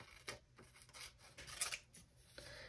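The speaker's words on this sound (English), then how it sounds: "Now I'm going to cut on this fold line." Scissors snipping through folded magazine paper along a fold line, several quiet crisp cuts spaced in an uneven rhythm, faint and close, with no voices.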